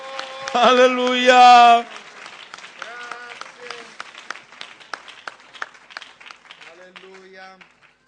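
Church congregation clapping at an evangelical preaching convention, beginning with a loud shouted voice and then continuing as scattered, fairly steady clapping under further vocal sounds.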